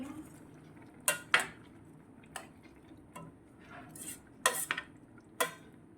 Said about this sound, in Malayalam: തേങ്ങായും എല്ലാം കൂടെ നമ്മൾ ഇതിന് മിക്സ് ചെയ്യുക